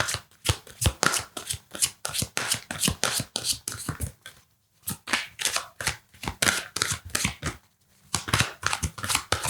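Tarot cards are shuffled by hand in quick rustling riffles, repeated bursts close up with brief pauses between them and a card drawn at the end.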